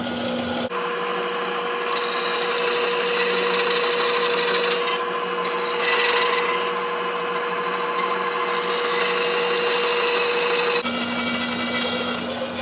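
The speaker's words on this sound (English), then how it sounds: "We'll take this out on the bandsaw and see how it fits." A bandsaw cuts wooden chocks for the square frames of an HMS Thorn ship model, giving a steady, loud whining rasp that runs almost the whole time, with brief surges as the blade bites and a motor hum at start and finish.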